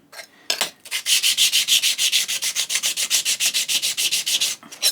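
A cabinet scraper is rubbed back and forth on a lower sharpening stone to remove a burr, giving a quick, even run of rasping strokes, close and steady, after a couple of brief initial scrapes.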